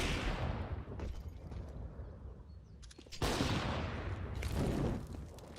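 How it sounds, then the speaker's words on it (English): Grenade blasts in a professional Counter-Strike match on the Inferno map: two loud, broad bursts of blast noise, the second stronger, over a steady wash of distant gunfire and game noise. "Another nade going to go over."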